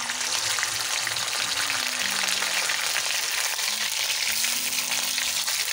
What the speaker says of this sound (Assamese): পনীৰখিনি অকণমান ভাজি ল'ম